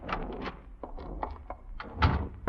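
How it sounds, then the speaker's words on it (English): Radio-drama door effect: a key fumbles in the lock and the door opens, with a series of small clicks and rattles ending in a heavier thunk near the end, close and fairly quiet. "Fumble nervously, opening the door."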